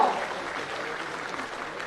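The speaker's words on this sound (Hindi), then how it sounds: "तालियां जोरदार हो।" Audience applause at a Jharkhand state ceremony for appointment letters and awards to top 10th and 12th grade students, a steady broadband wash of many hands clapping in a large hall, loudest at the start and sustained throughout.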